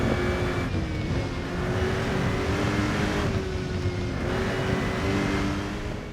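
Aston Martin GT3 race car engine lapping the Nordschleife in the Rennsport sim, a steady loud drone with rising and falling pitch as it shifts and accelerates, no voices.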